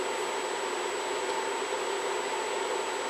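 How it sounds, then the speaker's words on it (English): A steady, breathy whoosh of an electric fan blowing nearby, with a faint constant high whine and no other sounds. "Apologize for that fan blowing there."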